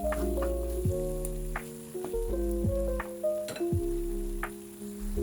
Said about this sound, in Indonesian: Jadi udah ada gelembung-gelembung minyak kayak gitu